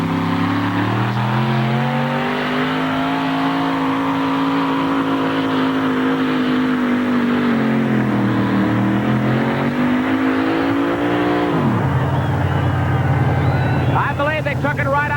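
A $60,000 four-wheel drive truck strains at a 1988 NTPA truck pull in Hamburg. The engine holds a loud, sustained roar whose pitch sags and climbs, then drops sharply near the end of the run.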